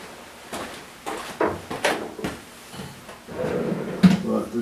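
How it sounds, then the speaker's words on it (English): Workbench drawers on full-extension slides are pulled open and pushed shut several times. Each gives a short sliding rush with a knock at the end, close by, followed by a longer rattling slide. "get the drawers all the way open and see what I've got in there"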